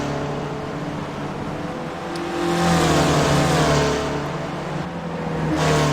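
Race cars driving fast at Mid-Ohio in a racing video game, a continuous engine drone with pitch rising and falling through gear changes, swelling louder midway as another car's engine joins in.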